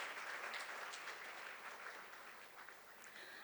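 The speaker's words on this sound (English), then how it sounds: "Let us give them all a big round of applause once again for presenting a beautiful show just for you" Audience applause at a pre-primary school annual concert, a steady wash of many hands clapping that continues evenly for a few seconds and tapers slightly toward the end, somewhat distant.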